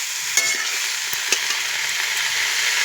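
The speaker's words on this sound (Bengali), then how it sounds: "মরিচগুলো দিয়ে ঝালিয়ে এগুলো ভাজা করি আছে" Chillies fry in hot oil in a pan, giving a loud, unbroken sizzle up close, with a few faint clicks of stirring.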